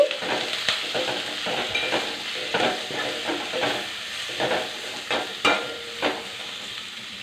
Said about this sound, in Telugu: పచ్చిమిరకాయ, కరివేపాకు వేపుకున్నామండి. కలర్ వచ్చేదాకా వేపుకోవాలి.